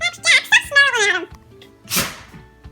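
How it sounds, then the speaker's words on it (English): A sneeze, apparently from a pet at home, bursts out as one sharp noisy blast after a person speaks excitedly, followed by quiet room sound. "Oh, did you sneeze?"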